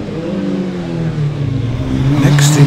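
Classic superbikes, a Kawasaki and a Suzuki, racing past in close order, a loud sustained engine roar with steady harmonic whine that swells slightly as they go by.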